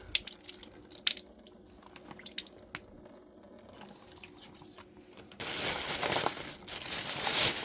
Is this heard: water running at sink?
yes